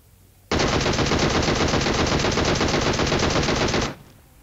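A DP-28 light machine gun fires in the mobile shooter PUBG Mobile as one loud, continuous burst of rapid shots lasting about three seconds before cutting off sharply.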